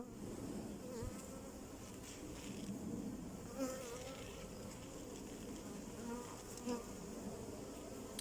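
Honeybees buzz around an open hive in a continuous, quiet drone, with individual bees passing close now and then and a few faint soft taps, and no voices.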